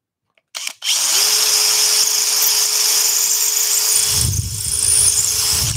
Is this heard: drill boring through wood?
yes